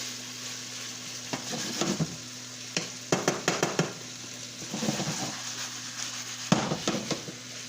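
Chicken sautéing in a pan on high heat for chicken Alfredo, a steady sizzle broken by bursts of stirring and scraping against the pan, close and fairly loud.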